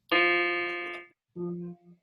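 A single sustained keyboard note rings out clearly and decays over about a second, followed by a softer second tone that fades away.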